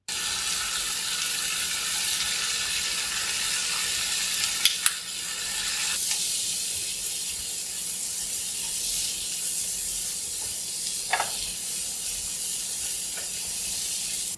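Onion with garam masala, paprika, chili powder and turmeric fries in a pan, giving a steady loud sizzling hiss throughout, with a few faint clinks of utensils.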